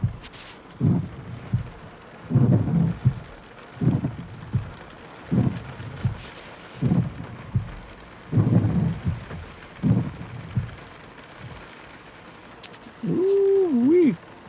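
A heavy Texas rainstorm with repeated deep rumbles of thunder rolling in bursts over a steady wash of rain, fairly near, ending in a brief tonal warble.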